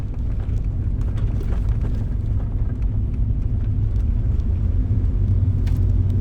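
Four-wheel drive vehicle crawling off-road over hilly terrain, its engine a loud, constant low rumble with rough texture and no pauses, no talking.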